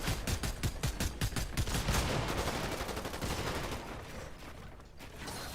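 Rapid gunfire in a video game, aimed down at a box, with a quick run of sharp, evenly spaced shots at the start that blur into a steady rattling wash.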